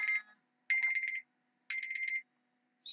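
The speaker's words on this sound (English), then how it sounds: "there is my alarm to wrap this video up." An electronic alarm goes off in repeated bright, buzzy beeping bursts, each about half a second long and separated by pauses. It sounds steady and close, with no talk.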